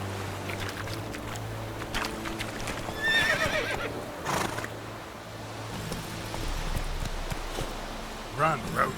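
Roach, the horse in The Witcher 3: Wild Hunt, gives a loud whinny amid rhythmic hoofbeats and moving water sounds, with game characters talking in between and a second neigh near the end.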